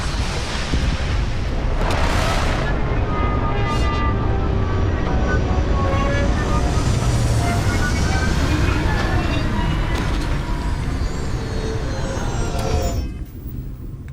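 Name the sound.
spaceship landing in the Starfield video game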